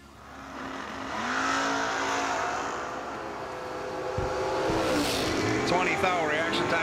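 A Mustang Roadster drag racing car at a Cedar Falls 350 event roars in a sustained engine run, loud and fairly close, with the roar rising toward the end amid crowd and track ambience.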